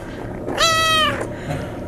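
Cat meowing at an animal shelter: one clear, drawn-out meow lasting about half a second, close and fairly loud, over quiet room background.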